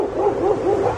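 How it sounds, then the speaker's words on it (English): A dog near an older house in Canada gives a run of quick, rhythmic yelping barks, fairly close and moderately loud over steady background noise. "There is a dog."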